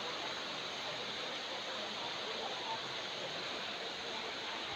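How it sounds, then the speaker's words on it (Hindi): The wide, fast-flowing Narmada river rushes in a steady, even roar with no breaks, close and constant. "देखिए कितनी ज़्यादा चौड़ाई है और बहाव भी तेज़ है।"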